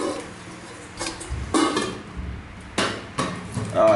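Unused metal cooking pots from a Japanese kitchenware set, including a 20 cm pot and a saucepan, clanking and knocking as they are handled, several distinct close metallic bangs separated by pauses.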